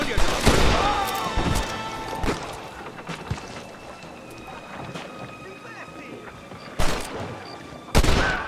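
Gunfire in Red Dead Redemption, loud bursts of shots at the start and again near the end, separated by quieter wind-blown outdoor ambience with scattered sharper cracks, and voices speaking at times.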